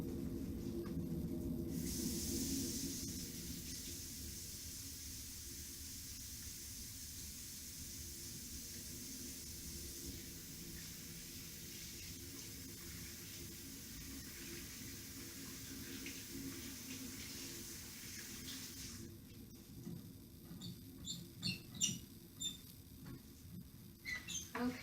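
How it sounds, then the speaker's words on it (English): Hands are washed under a running tap at the start of a nursing physical assessment practicum: a steady, close water hiss lasts most of the clip, then gives way to a few light clicks and knocks. "I'm going to wash my hands."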